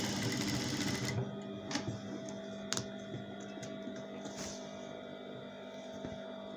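A sewing machine whirs rapidly as it stitches the lining of a skirt, then slows to a quieter hum with a few clicks, close by.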